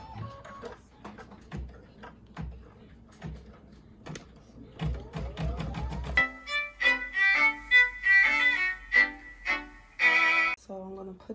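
A Meridian embroidery machine stitches an appliqué, starting with a steady train of light, evenly spaced mechanical ticks and then building into a louder, denser run of whirring and clattering stitches close by, with no talking.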